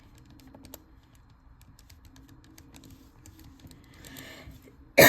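Numbers tapped on a computer keyboard in soft, irregular clicks, close and quiet, ending in one sharp loud knock.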